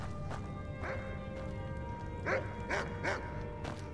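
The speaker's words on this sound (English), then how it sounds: "Oh yeah, I got a dog." A dog barks a few times in Skyrim, short bursts spaced around game music and ambient background.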